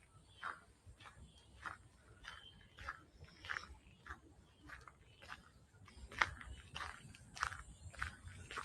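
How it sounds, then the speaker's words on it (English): Footsteps crunching on a gravel path during an outdoor walk at Homebush Bay, a steady rhythmic series of faint, close crunches with no talking. "Or my feet crunching on the gravel."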